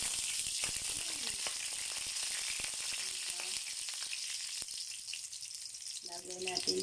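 Garlic frying in a pan and being stirred, a steady bright sizzle throughout with scattered scraping and clinking of the utensil, cooked for a sardines-and-egg dish; a short voice sounds near the end.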